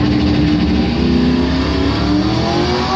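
A Camaro and a 1996 Buick Roadmaster launching side by side in a Top Doorslammer drag race, loud roaring engines at full throttle, sustained and close.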